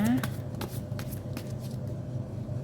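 Tarot cards are shuffled and drawn by hand in a series of quick, close riffling and slapping bursts, with someone speaking softly over them.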